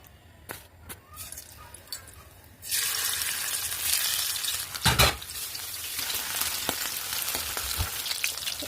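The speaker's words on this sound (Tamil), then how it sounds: "நம்ம மீன் வறுத்துக்கலாம். மீன் வறுத்து கொஞ்சம் எண்ணெய் போடுவோம்." Masala-coated fish frying in oil at home, a steady loud sizzle starting abruptly after a quieter first few seconds of faint kitchen clatter, with one sharp spatter burst midway and crackling continuing to the end.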